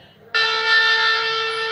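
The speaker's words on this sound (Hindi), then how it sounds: "शंख की ध्वनि हुई, इसका मतलब ये हमारा स्टार्ट हो गया।" A Gita reading device plays a conch shell tone on starting up, a sustained bright horn-like blast that begins abruptly and holds steady to the end.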